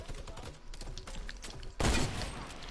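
Sniper gunfire in a video game: a steady low rumble of game ambience, then a sudden loud, sharp report near the end that rings out and holds a dense tail.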